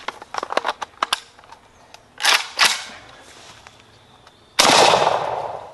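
A JTS AK12 gas airsoft rifle fires a string of sharp, close cracking shots, followed by a few louder separated pops and one final loud report with a lingering tail.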